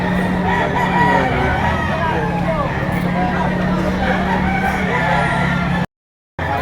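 A rooster crows repeatedly at a chicken breeding farm in Rosario, Batangas, its calls mixed into steady yard noise and background voices.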